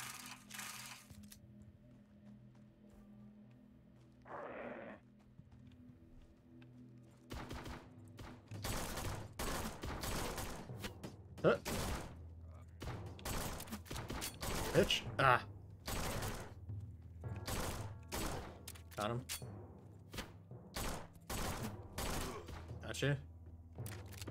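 Shotgun fire at zombies in an over-the-top action video game: a rapid barrage of sharp, loud blasts after a quieter opening, with game music and effects running underneath.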